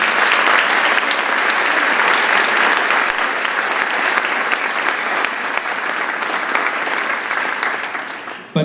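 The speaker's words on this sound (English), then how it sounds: "I think that deserves a round of applause." Sustained applause from a crowd at an outdoor Veterans Day ceremony in Ludlow, steady and dense for the whole stretch before tapering slightly at the end.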